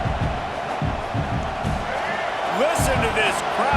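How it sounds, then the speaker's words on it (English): A stadium crowd at a college football game roars loudly and continuously, a broad surging din with whoops and shouts rising near the end, while a commentator talks over it. "Listen to this crowd just shaking the girders of this place trying to help their defense."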